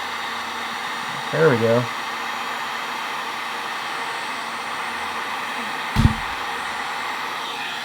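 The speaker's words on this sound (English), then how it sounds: "Heat gun." Heat gun blowing hot air onto heat-shrink tubing over a motorcycle wiring harness connector, a steady airy whoosh throughout, with a brief spoken remark and a sharp click near the end.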